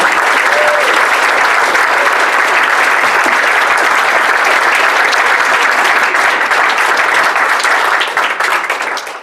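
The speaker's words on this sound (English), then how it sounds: "every time the audience applauds, that clapping is for you" A stage hypnosis show audience applauds loudly and continuously for about eight seconds, a thick uniform roar of many hands that tapers off at the end.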